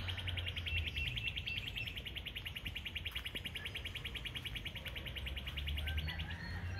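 Busy birdsong with steady, repeated chirps and trills from several birds, continuous throughout over a low outdoor hum.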